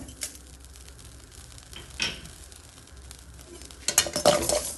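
Tamarind and salt dry-roast in a pan for curry leaf podi, a quiet crackle under sparse scraping and clinks of a spoon against metal, with a louder burst of stirring near the end and nobody speaking.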